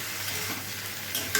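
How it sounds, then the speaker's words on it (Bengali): Food frying in a pan with chilli sauce is stirred, giving a steady broad sizzle with a few louder scraping strokes near the end, close up and without talk. "এখন এটা খালি একটু নাড়াচাড়া করব।"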